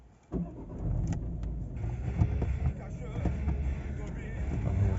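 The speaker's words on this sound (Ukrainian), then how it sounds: "давайте заведемо, послухаємо, як працює двигун" Volvo V50 1.6 diesel with a six-speed manual cranking and starting, then idling with a low, steady rumble close by while someone talks over it.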